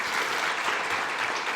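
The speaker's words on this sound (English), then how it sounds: "How about a round of applause for the board?" An audience at a college associate nursing pinning ceremony applauds the board with continuous dense clapping, a steady roar of many hands lasting the whole short stretch.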